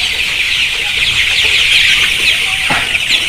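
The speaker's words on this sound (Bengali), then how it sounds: "সোনালী মুরগির বাচ্চা" Twenty-five-day-old Sonali chickens cluck and peep steadily in a dense, close chorus on a poultry farm, with no talking.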